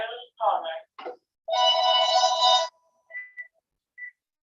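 A phone's ringtone sounds from an incoming call during an online group session, a bright electronic tone burst lasting about a second, then short chirps, after a voice speaks.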